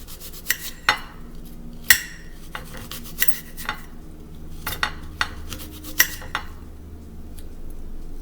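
Knife slicing apples for a German apple pie on a cutting board, a close, irregular series of sharp knocks and taps, with no talking.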